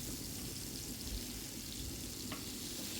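Eggplant slices fry on a flat tawa after being flipped, producing a faint, even hiss of sizzling oil that continues steadily throughout.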